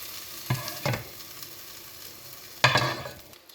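Onions sauté in a pan with a low continuous sizzle, broken by a few louder scraping stirs of a spatula, close and without any talk.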